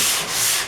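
Continuous close scratching of sandpaper worked crisscross over bondo body filler on a car body panel, loud and steady without a break.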